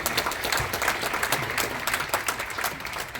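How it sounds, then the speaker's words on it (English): An audience at an awards gala for young Haitian professionals in Boston claps steadily and fairly close, dense and even from start to finish, with no speech over it. "Let's give yourself a round of applause"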